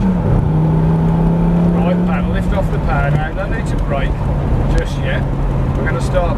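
A Lamborghini accelerates uphill on a track, its engine a loud steady drone whose pitch climbs and then drops as it shifts gears, heard from inside the car under continuous voices.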